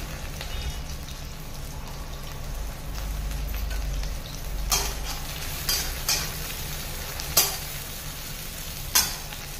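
Okra stir-fried in a pan with black cumin and chili flakes, a steady close sizzle under repeated scraping and stirring strokes, with a few sharp clatters near the end.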